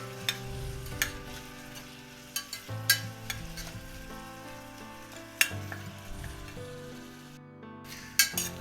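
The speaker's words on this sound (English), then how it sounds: "And we shall cook the onions till it becomes golden brown." Onions with a little salt frying toward golden brown, a quiet sizzle under repeated sharp clinks and scrapes of a utensil stirring against the pan.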